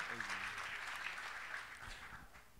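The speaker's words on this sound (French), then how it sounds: "Applaudissements pour ces trophées CCI du Beaujolais" Applause from the audience at a CCI Beaujolais awards ceremony for the Marathon du Beaujolais trophies, a faint, distant wash of clapping with murmured voices underneath, gradually tapering off.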